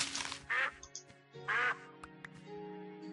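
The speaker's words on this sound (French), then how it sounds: "Donc on va tuer ce canard." Duck in a survival video game quacking twice in loud, nasal bursts over a quiet hum of game music and small clicks.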